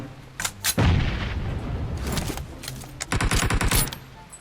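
Bursts of gunfire in the mobile battle-royale game PUBG Mobile, with loud single shots near the start followed by a dense rapid volley toward the end, close and punchy.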